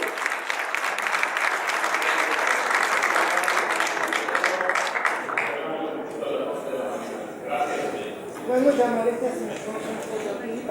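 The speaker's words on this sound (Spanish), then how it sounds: "Gracias, fuerte el aplauso." Loud applause from an audience fills the first half, then fades as voices and murmuring talk take over.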